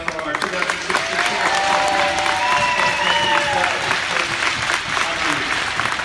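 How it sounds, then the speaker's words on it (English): An audience at a pee-wee hockey award ceremony gives loud, sustained applause that fills the hall, with crowd voices and cheers mixed in. "Again, let's have a big round of applause for our"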